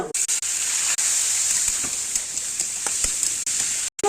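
Soybeans frying in a frying pan with dry cumin, coriander and chilli, giving a loud steady close sizzle with faint pops and crackles throughout, briefly cut off near the end, no voices.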